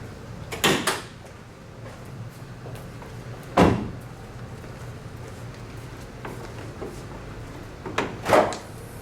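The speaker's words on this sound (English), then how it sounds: "I am going to pop the hood of the ZL1 so we can take a peek at that." Hood of a Chevrolet Camaro ZL1 with a supercharged 6.2-liter LS engine being popped open: a few separate thumps and clunks of the latch and panel, close and sharp, spaced apart over a quiet background.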